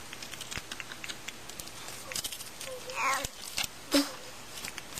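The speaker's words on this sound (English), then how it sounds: "Yes, finally, we can put the keyboard in." A laptop keyboard is pressed and clicked into place during reassembly of a Dell Inspiron 7500, making scattered light taps, clicks and a couple of louder plastic snaps, close and fairly quiet.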